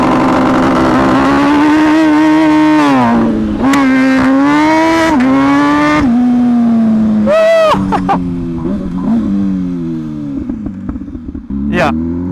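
An MV Agusta Brutale with a titanium exhaust launches hard from close by, its loud engine note climbing through several surging pulls with brief dips at the gear changes, then backing off to a lower, uneven burble.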